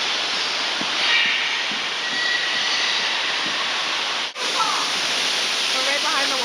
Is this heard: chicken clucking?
no